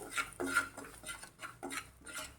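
A spoon clinking and scraping in a bowl as red chilli powder, turmeric and salt are mixed for bhadang, with a few quiet rhythmic strokes and no voices.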